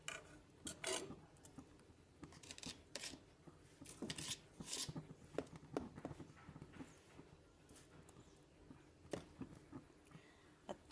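Dry poha is mixed with salt in a bowl for a Goan breakfast, producing faint, close scraping and soft clattering strokes in irregular bursts against a quiet background.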